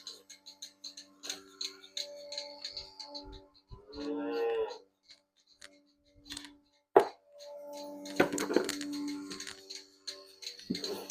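Cattle in a village barn at feeding time, with several low moos at intervals, one long call in the middle, alongside scattered clanks and knocks of barn activity, fairly close.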